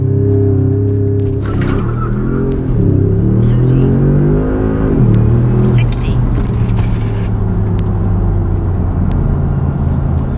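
A tuned Audi S6 with a Unitronic Stage 2 transmission tune accelerates hard on a test run, engine note climbing steadily and loud with a brief dip around a shift, then droning on at high revs.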